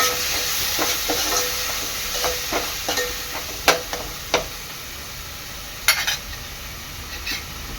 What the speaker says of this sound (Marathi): यामध्ये टाकते अद्रक लसूण मिरची कोथिंबीरची पेस्ट चांगलं मिक्स करून घ्यायचं आहे